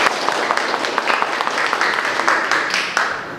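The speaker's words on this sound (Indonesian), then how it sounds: "Tepuk tangan untuk kita semua." Applause from a school class during a peer-teaching lesson: a dense patter of many hands clapping with sharp individual claps poking through, fairly loud and steady for a few seconds.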